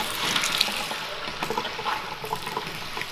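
Cold, dirty water pours steadily and splashes, a continuous broadband rush at close range during metal roofing installation work, with no talk over it.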